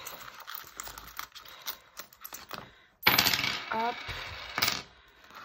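A few coins drop into a budget envelope, a quick bright metallic clatter and jingle after soft rustling of paper, with a brief spoken word just before.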